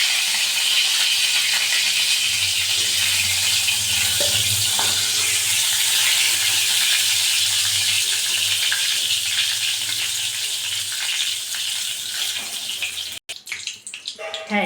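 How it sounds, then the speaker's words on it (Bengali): Eggplant fries in hot oil in a Bengali kitchen, a loud, dense, steady hiss and sizzle close by, broken near the end by a sharp clatter and a brief burst of movement. "বেগুনটা দেখুন ভাজা হয়ে গেছে। এবার আমি তুলে নেবো আস্তে আস্তে, তেলটা থেকে তুলে নেব।"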